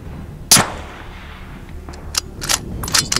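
A single sharp rifle shot cracks at a 300-yard range and is followed by a fading rumble, then a few faint distant knocks and clicks.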